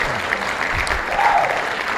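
Brief, spirited clapping from a small group, a short burst of applause lasting a couple of seconds with a few voices faintly mixed in.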